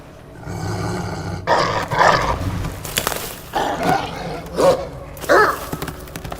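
Dog growling and snarling in Assassin's Creed Valhalla, a run of rough bursts between pauses over low game ambience, loud and close.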